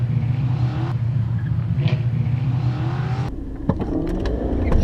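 A 140-horsepower supercharged race car accelerates hard from close by, its steady loud engine drone and whine climbing, then shifting to a rougher rumble with clicks and knocks as it keeps pulling.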